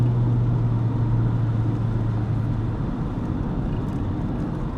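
A 1986 Jaguar XJS V12 engine drones loudly from inside the cabin while accelerating, a deep steady roar that holds, then eases slightly as it settles.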